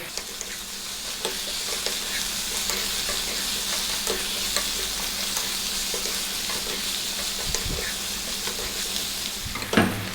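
Coriander, turmeric, cumin and chili powder are stirred into a sizzling pan for an Indian potato curry over lively heat, with constant frying hiss, spoon scrapes and a sharper clatter near the end.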